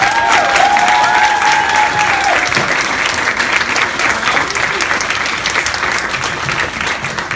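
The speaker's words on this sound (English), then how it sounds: "Ladies and gentlemen, let's make a big welcome, Victoria V. Schwab." A large audience at a book signing event bursts into loud, sustained applause with some cheering to welcome an author, a dense wash of clapping that slowly thins out over several seconds, with a brief voice heard near the start.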